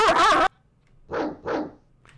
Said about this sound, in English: The sound of barks is growing distant.